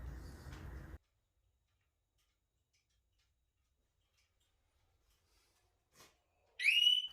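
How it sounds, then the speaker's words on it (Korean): The security alarm on a Harley-Davidson Street Bob 114 sounds a pre-warning when the bike is moved without its key fob: after a short noise burst and a long silence, a faint click is followed by a bright, high chirp. "키팝이 없이 바이크를 세우면 예비 경보가 두 번 울리게 되는데요"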